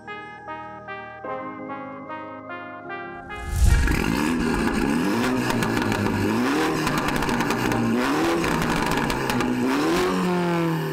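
A 306 hp Mini John Cooper Works starts with a sharp burst after a few seconds of melodic chimes, then its engine runs loudly as the car drives, with repeated rising and falling rev sweeps as it accelerates through the gears.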